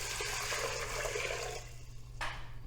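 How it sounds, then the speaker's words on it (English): Water poured into an Instant Pot over dry lentils, a close, rushing gush that runs steadily for about a second and a half, then thins to a softer trickle with a brief splash near the end. "you cover with water"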